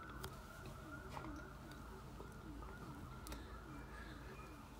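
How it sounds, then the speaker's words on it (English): Police sirens wail faintly in the distance during a nail session at home, a low wavering tone under quiet room noise. "Ooh, I'm hearing sirens."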